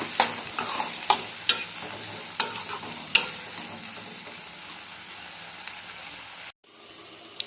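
Chopped tomato cooks in a pan for an okra curry, a steady close sizzle with several sharp stirring clicks early on, then softer frying before a brief cut.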